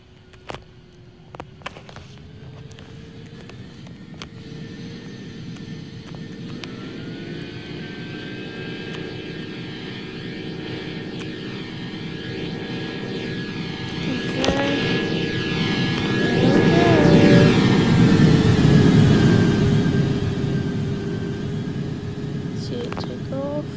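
A Roblox flight game's airplane engine drones steadily and swells louder as the plane passes close, while someone talks over it.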